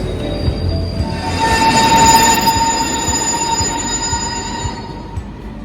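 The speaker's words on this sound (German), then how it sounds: "Da kommt der letzte Zug, der uns zur letzten Station in Japan bringt." A train pulls into a station in Tokyo, Japan, its wheels squealing with steady high-pitched tones over a rolling rumble that swells midway and then eases, with no voices.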